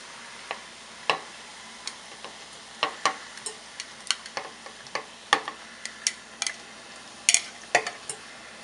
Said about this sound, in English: now we're gonna go ahead and cook our shrimp, and we're just gonna boil it